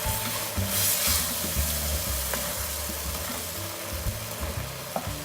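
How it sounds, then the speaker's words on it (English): Chicken and wild mushroom risotto cooking in a pan over lowered heat, a constant bright sizzle and bubbling hiss with soft stirring scrapes underneath, close and steady with no talk. "we drop the temperature quite a bit, because we just want it to simmer"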